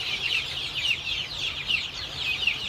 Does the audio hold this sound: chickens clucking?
yes